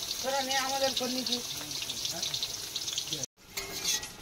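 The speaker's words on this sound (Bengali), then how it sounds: "একটু আলুটা ভেজে নেবে না দাদা? ঠিক আছে, আলুটা ভেজে নাও।" Potatoes frying in a pan outdoors, a continuous moderate sizzle of oil with a voice speaking over it early on, then a brief dropout before the frying resumes.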